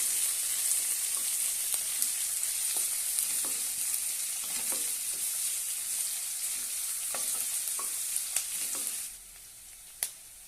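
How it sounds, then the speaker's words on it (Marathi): Two lengthwise-sliced onions fry in hot oil for a potato chutney, giving a continuous bright sizzle broken by repeated spatula scrapes and taps, close and fairly loud, with no talking. "आता त्यामध्ये मी दोन कांदे उभे चिरून घेतलेले आहे अशा पद्धतीने ते घालूया छानपैकी तेलामध्ये परतून घेऊया"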